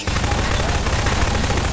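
Sustained rapid gunfire in Garry's Mod Prop Hunt, a loud unbroken stream of shots through a kitchen, steady from start to finish with faint voices underneath.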